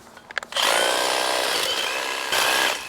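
A Makita DUH506 cordless hedge trimmer starts after a few light knocks and runs loud and close with a steady high buzz, briefly easing before surging again and then cutting off.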